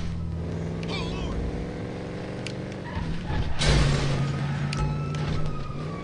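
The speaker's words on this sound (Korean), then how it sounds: "아 엔진 소리 좋자" A car engine in the video game GTA 5 revs and accelerates under a player's talk, growing louder midway with a few sharp transient sounds.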